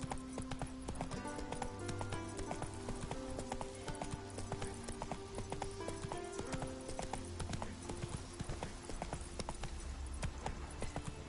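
Hooves clip-clop in a steady, rhythmic gallop as a horse runs in The Witcher 3, the beat continuous and fairly close, with a faint snort or whinny mixed in.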